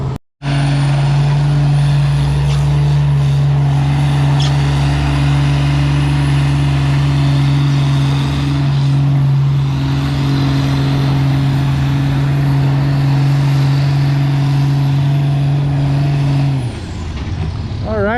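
A Cummins-swapped Farmall 560 tractor pulls a 7,000-pound sled at a spring pulling event, its engine a loud, sustained steady drone for most of the run before cutting off near the end.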